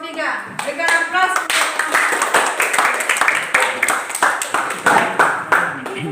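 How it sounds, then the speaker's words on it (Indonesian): Classroom applause after a group presentation, many hands clapping in a lively, fairly close burst that holds steady for several seconds. "Berikan aplaus."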